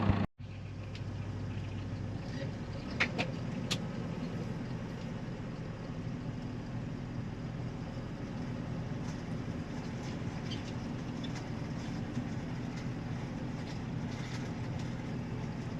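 Tractor-pulled hay tedder working a hay field on a damaged wheel, a steady distant mechanical drone heard from a little way off, with a few faint clanks and no talk.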